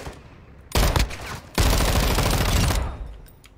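Bursts of automatic gunfire in Call of Duty DMZ, a short volley followed by a longer sustained stream of loud, close shots that tails off.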